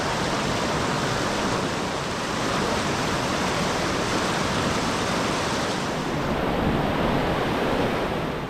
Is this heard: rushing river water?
yes